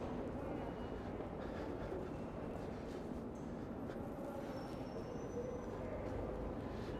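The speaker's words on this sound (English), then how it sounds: "Here's the EFMR train on the 7 line" A subway train on New York's 7 line rumbles by with a steady roar and faint clickety-clack, fairly quiet and continuous throughout, with a brief high squeal partway through.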